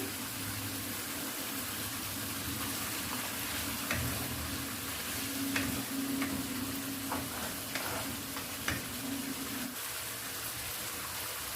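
Mutton karahi sizzles softly in oil with finely chopped ginger, a low continuous hiss with a faint hum beneath and occasional light scrapes and clinks.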